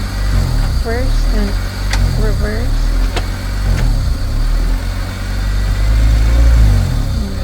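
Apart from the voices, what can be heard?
manual stick shift car engine running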